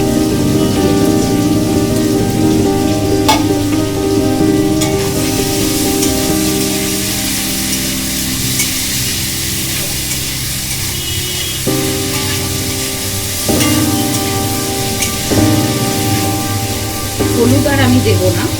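Bitter gourd and onion sizzle steadily in hot oil in a pan, a dense crackling hiss with occasional clinks of stirring, and a voice speaks faintly in the background.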